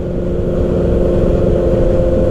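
A 2019 Kawasaki Ninja ZX-6R with a full M4 GP exhaust system runs loud and close, a steady deep engine rumble with a revving quality holding throughout, no voices.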